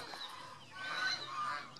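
A domestic goose gives a drawn-out, nasal honking call that rises and wavers over about a second, faint and somewhat distant against quiet background noise.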